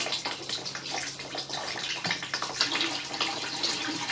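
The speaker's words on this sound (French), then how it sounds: "Nous allons faire couler de l'eau." Water runs down a urinal during a flush-and-drain check, a steady rushing and splashing flow with gurgling bursts that holds at moderate loudness throughout.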